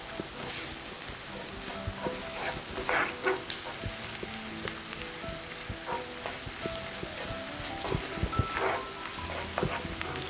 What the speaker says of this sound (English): add in the fresh green chilies, give that a stir